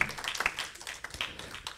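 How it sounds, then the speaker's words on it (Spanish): Scattered clapping from a church congregation, a few uneven sharp claps close by rather than a full ovation, brief and without talk. "denle un fuerte aplauso al Señor, hermano."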